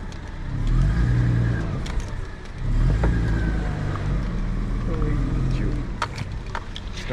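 Car climbing an off-road trail in two-wheel drive in Watagan National Park, its engine revving in strong surges close by, with someone talking over the engine noise.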